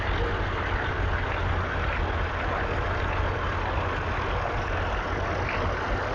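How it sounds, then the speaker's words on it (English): A Fordson Major E27N tractor with a Perkins P6 engine runs at a steam rally, giving a steady low diesel drone with an even rumble throughout, moderately close and unaccompanied by talk. "the E27N Fordson Major with the P6 in, venerable P6 engine"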